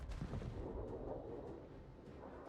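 Battleship main guns firing in World of Warships, a deep booming blast with a rumbling low tail that fills the short moment, distant-sounding and heavy, with no talk over it.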